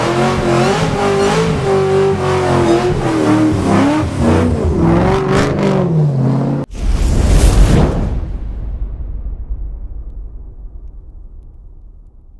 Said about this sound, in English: gonna do a burnout.